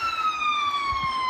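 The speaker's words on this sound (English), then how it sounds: "there's a car, police car." A police car siren wails loudly and close, its steady tone sliding gradually lower as it passes by on a street, with faint road noise underneath.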